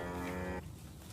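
Cattle lowing together in one sustained, loud, harmonic moo that cuts off abruptly partway through, leaving a quieter rustling farmyard background.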